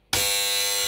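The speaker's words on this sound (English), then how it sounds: "the buzzer will go off." A 1960s Goblin D25 Teasmade alarm: a harsh, steady electric buzzer starts abruptly after a brief silence and holds at constant loudness, close and rasping.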